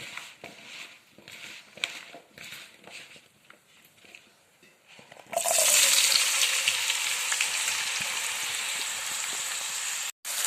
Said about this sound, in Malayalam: ചെറിയ ഫ്ലെയിമിൽ വെച്ചിട്ട് നന്നായിട്ട് സോട്ട് ചെയ്ത് എടുക്കുക